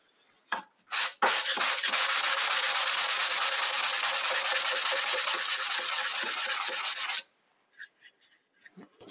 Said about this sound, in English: let's go down to 150 grit. That should make it really,